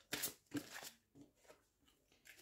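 Tarot cards are shuffled and handled in short, soft bursts of papery riffling and sliding, close and quiet, with no talking.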